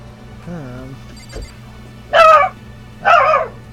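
A dog gives two short, loud barks close by after a whine, with a person talking in the room.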